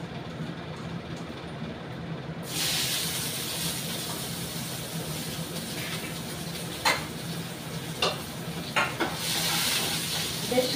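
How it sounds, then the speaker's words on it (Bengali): Garlic and a dried chili frying in oil, a quiet start before a sudden sizzle bursts in and holds steady, with a few sharp stirring clicks and spatters near the end. "বেশ রসুনগুলোকে একটু লাল লাল করে ভেজে নেব।"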